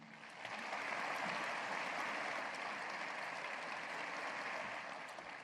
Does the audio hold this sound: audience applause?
yes